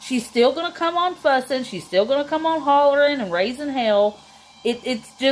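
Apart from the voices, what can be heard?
No everyday noises stand out.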